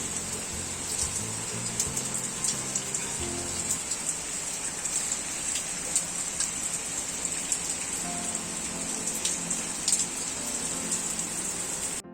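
Steady rain falls in a dense, constant hiss with scattered sharper drops, a low hum briefly underneath early on.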